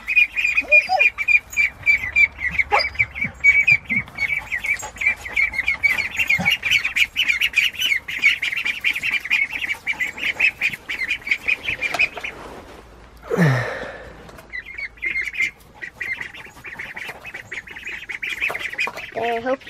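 Young ducklings just starting to feather out, let outside for the first time, squawking and peeping in a busy, continuous chatter close by, with one louder squawk near the end.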